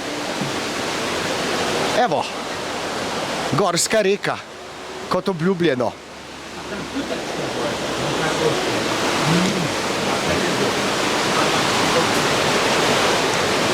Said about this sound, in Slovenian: In pa evo, Gorska reka.